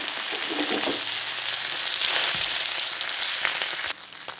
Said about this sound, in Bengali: সবগুলোকে মাছগুলোকে উল্টে নিয়েছি আর একবার ভেজে নেবো